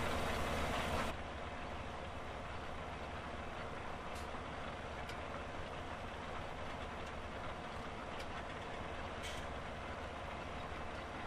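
A roughly 500-horsepower tractor in Farming Simulator 17 hauls a 4-meter combination drill, giving off a steady, continuous engine drone with a few faint clicks and no pauses.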